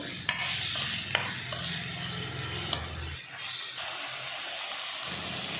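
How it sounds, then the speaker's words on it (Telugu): Thinly sliced ridge gourd pieces being tossed with turmeric in a pan, soft sizzling under a few sharp spatula taps and scraping strokes, close, with a low hum that cuts out midway. "వేసేసి బాగా కలుపుకోవాలి. మంచిగా బాగా పసుపు అన్ని పట్టేలా కలుపుకోవాలి."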